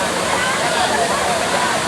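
Bolinao Falls in Pangasinan, with water crashing down in a steady, broadband roar that continues without a break. Voices can be faintly heard under the noise.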